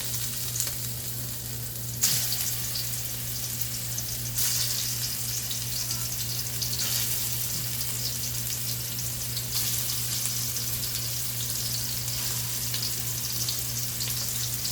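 Kebab sizzling in a spoonful of ghee and a spoonful of oil, a steady close crackling fry with brighter bursts as more meat goes in, no talking.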